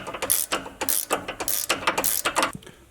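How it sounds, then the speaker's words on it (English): An 18mm wrench ratchets in a rapid run of close, loud clicking strokes while tightening a bolt during a Clayton Offroad 2.5-inch lift kit install on a Jeep JLU. "So what you want to do is get an 18mm wrench and then get a Allen wrench right here. Start tightening it up."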